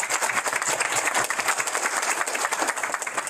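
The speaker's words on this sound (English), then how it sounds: "So give yourselves a huge round of applause." Hotel housekeeping staff and guests applaud at a proclamation signing for International Housekeepers Day, a steady, dense round of clapping from a sizable indoor crowd.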